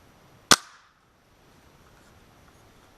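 A single sharp crack from a Hatsan 125 break-barrel air rifle lubricated with silicone air tool oil, one loud shot with a quick decaying tail and then near silence.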